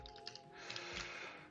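Typing on a new computer keyboard during a timed typing lesson, a steady run of quick key clicks that stays fairly close and even throughout, with no talking.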